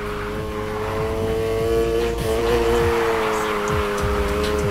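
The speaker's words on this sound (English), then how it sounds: "Slam on the gas and steer, then use the gas to power through." Car drifting in the video game Need for Speed Heat, with a steady loud engine drone and rising revs, tire squeal and a few gear-shift sweeps, continuous throughout.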